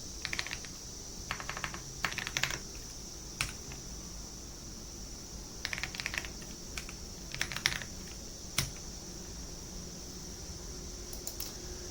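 Irregular bursts of quick key clicks on a computer keyboard while entering data into an Excel spreadsheet, faint and close, with pauses between flurries over a steady fan hum.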